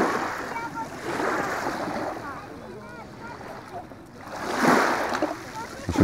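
Sea waves rolling into a small bay at Anapa in winter, a broad rushing wash that swells and fades twice, heard up close with wind, while someone talks over it.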